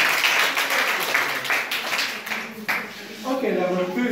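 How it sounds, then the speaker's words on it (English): A class of students claps for classmates after answering a question: a short burst of uneven hand clapping that fades within a few seconds, with voices talking alongside and continuing after. "Clap for them."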